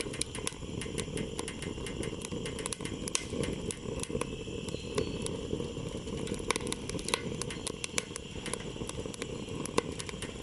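A small homemade rocket stove made from three coffee cans burns with a steady, roaring draw. Dense crackles and pops run through it continuously, close and alone, with no talk.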